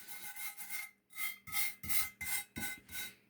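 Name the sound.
sanding and polishing paint with sandpaper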